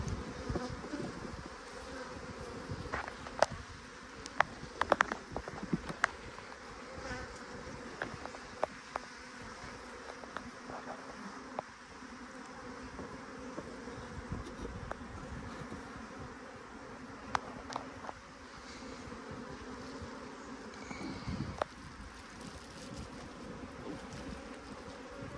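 Dense, steady buzzing of many honey bees close by at a hive being split, a continuous drone with occasional louder passes and handling knocks, no voices.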